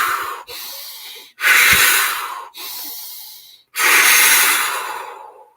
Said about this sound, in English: Take a couple deep breaths of what we do in the breathing, but do it quickly. In through the nose, now through the mouth,